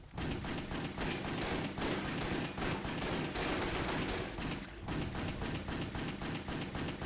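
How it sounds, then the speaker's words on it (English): Gunfire in the video game Wet comes as dense, rapid bursts of shots, nearly continuous and loud, layered over game music and effects with no talk. "so that you're always kind of in slow motion shooting dudes before they can shoot you"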